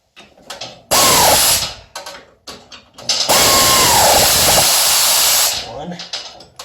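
A power tool, likely an impact driver or drill, runs in two long loud bursts while tightening the rear-end bolts of a BIC trike conversion on a 2006 Harley-Davidson Fat Boy, with brief clicks and handling noises between them.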